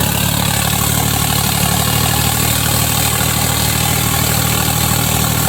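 A Swaraj 855 4x4 tractor engine drives a rotavator under load in second low gear: a loud, steady, close diesel drone holding constant throughout without a break.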